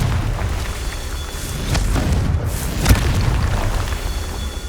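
Confringo spell cast in the Hogwarts Legacy video game, a deep rumbling fiery boom with sharp cracking bursts over a sustained loud low roar, no talking.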